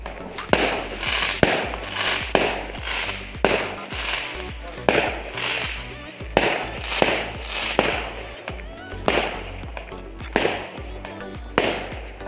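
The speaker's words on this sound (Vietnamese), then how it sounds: "đốt pháo bông ở ngoài sau nhà" Fireworks and firecrackers set off behind a rural house during Tết, a steady run of sharp loud bangs and crackling bursts repeating every second or so, with some voices faintly underneath.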